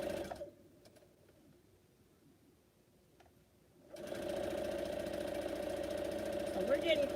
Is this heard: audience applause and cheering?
no